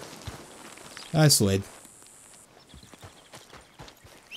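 Horse hooves clip-clop on the ground in Red Dead Redemption 2, soft irregular steps in the game world with a brief louder burst of other sound partway through, while someone talks over them.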